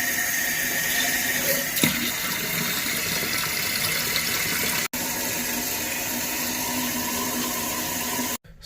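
A toilet tank refills with water, a steady loud rushing hiss that runs without a break, close by, with two sudden cutouts near the end.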